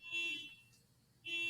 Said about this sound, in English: There's a car alarm going out outside my gym right now.